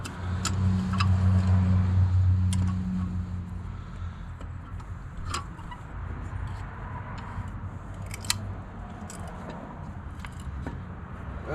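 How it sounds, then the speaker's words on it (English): A 5-inch C-clamp squeezes a brake caliper piston back into its bore on a 4th-gen Ram 1500, giving scattered faint metallic clicks and creaks over a low hum of idling vehicle noise. "we can go ahead and compress this back in"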